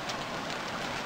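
Rain in the survival video game Stranded Deep, a steady dense hiss of falling rain with no voices.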